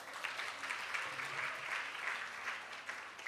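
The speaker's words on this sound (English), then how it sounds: "round of applause" A conference crowd at a celebratory gathering gives a steady round of applause, dense, even clapping running for about three seconds without a break.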